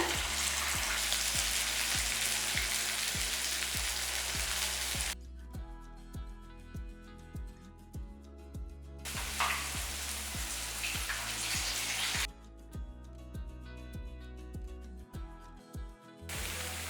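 Urad dal vada batter with chana dal deep-fries in hot oil, giving a loud continuous crackling sizzle that drops and swells in waves, close up with no voices.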